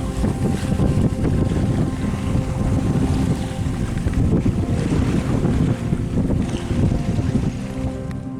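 Sailboat beating to windward in choppy seas with gusty wind, steady roaring wind buffeting and rushing water from the waves sloshing against the hull, loud and continuous with no voices.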